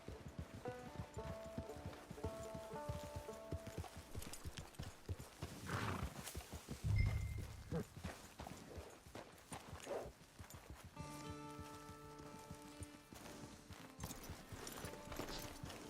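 Hooves clop steadily as a horse walks along in the video game Red Dead Redemption 2 Online, with music playing throughout and a brief snort in the middle.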